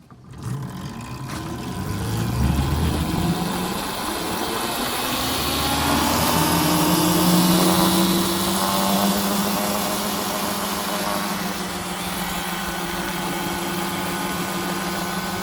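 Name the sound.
fast minibike engine running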